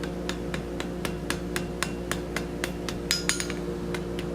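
Sharp metallic hammer blows ring out at a steady rhythm, about a dozen strikes, as a hot iron fleur de lis scroll joint is hand forged and worked into the weld, with a hum underneath.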